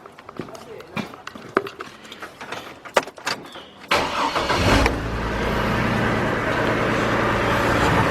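A 2002 GMC Envoy with a cylinder 3 misfire cranks and starts after a few scattered clicks and handling noises, then settles into a steady, close-up running drone that continues to the end.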